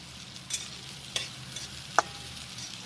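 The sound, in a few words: green peas frying in oil with onion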